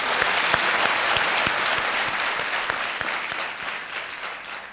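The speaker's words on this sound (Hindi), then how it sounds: "एक बार फिर ताली बजा देते हैं आपके लिए" Studio audience applause on the Kaun Banega Crorepati quiz show: a dense, steady clapping that fills the room from start to finish at an even, loud level.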